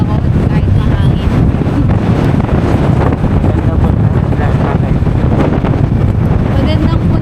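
Strong wind roars steadily against the microphone during a boat ride to Puerto Galera, with a dense, constant rumble and someone talking underneath.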